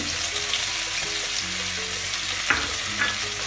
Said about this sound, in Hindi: तेल हमारा गर्म हो चुका है, इसे हम फ्राई कर लेंगे